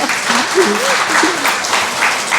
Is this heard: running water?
no